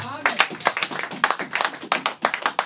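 A church congregation claps in a quick, steady rhythm, the sharp hand claps loud and close with voices mixed in beneath them.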